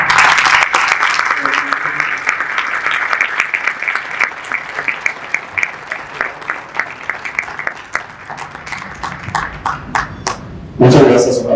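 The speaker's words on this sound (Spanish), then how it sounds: "pedirles a todos y a todos ustedes un fuerte aplauso" Hearty audience applause at a book presentation, dense clapping that slowly thins into scattered individual claps before a voice begins speaking at the end.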